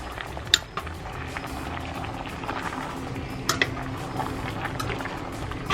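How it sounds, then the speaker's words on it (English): Water with noodles bubbles steadily in a pot, a continuous close hiss and simmer with a couple of faint clinks on top, and no talking. "I want the water to come back up to a boil"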